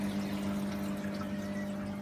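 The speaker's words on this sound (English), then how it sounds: "you've got a four-way splitter there for the water, and that has a motor in it that turns around" A motorized four-way water splitter on a fish tank runs steadily with a faint, constant hum over a soft wash of flowing water, quiet and unchanging throughout.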